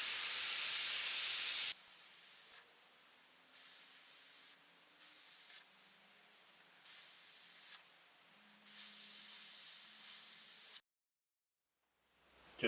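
An airbrush hisses in short spray bursts while flame licks are painted on, a steady hiss starting and stopping in a loose rhythm of pulls, each lasting a second or so, then falling silent near the end.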